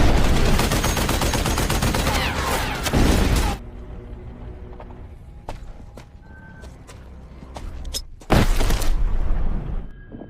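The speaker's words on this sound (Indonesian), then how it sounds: "Mereka pun berhasil mengejar Charles lalu menghujaninya dengan peluru." Rapid bursts of gunfire fill a film action scene, loud and dense at the start and again near the end, with scattered single shots, sharp clicks and quieter rumbling in between.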